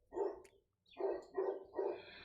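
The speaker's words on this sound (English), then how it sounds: "sorry about the dog barking." A dog barks four times in a loose rhythm, each bark fairly loud and close, with a short pause after the first.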